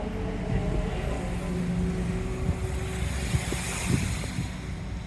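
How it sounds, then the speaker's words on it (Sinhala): A boat cruises on harbor water in the evening, with a steady wash of waves and engine rumble plus wind buffeting the microphone, broken by occasional small knocks. "බෝට්ටුවේ රවුමක් යන්න."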